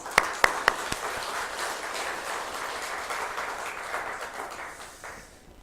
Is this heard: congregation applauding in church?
yes